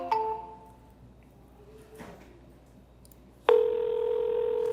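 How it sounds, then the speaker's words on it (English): Outgoing telephone call: a steady ringback tone starts partway through and holds continuously at moderate level, after a quiet stretch with faint earlier tones and a soft click. "This one's ringing."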